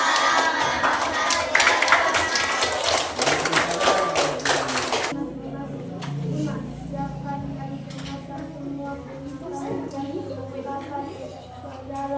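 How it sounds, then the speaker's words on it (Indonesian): Schoolchildren in a sixth-grade class clap and cheer loudly for about five seconds, then the noise drops away to quieter room sound with some background voices. "Ayo tepuk tangan."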